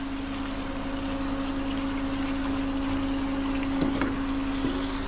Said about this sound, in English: So I'm gonna run a little bit of water over these for a minute.